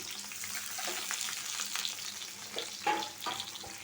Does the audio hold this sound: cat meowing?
no